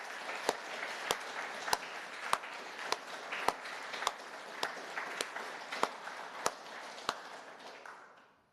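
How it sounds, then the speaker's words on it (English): A conference audience at a Haskell symposium applauds, giving a soft, steady patter of many hands with a few sharper nearby claps standing out at regular intervals, before the applause fades out at the end. "we owe her a round of applause for the last 2 years"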